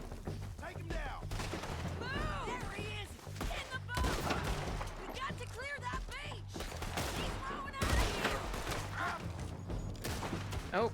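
Rapid bursts of gunfire from Red Dead Redemption 2 crackle through a busy game mix of shots and impacts, with people talking over much of the shooting.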